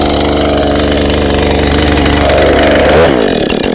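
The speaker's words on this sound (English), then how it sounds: "Got the saw warmed up." A warmed-up chainsaw is idling close by in a loud, steady buzzing putter. Near the end it blips briefly and then settles back, with no voices.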